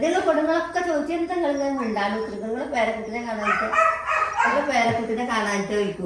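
A dog barks outside beside a home, repeated yips and barks mixed into continuous talking that dominates throughout.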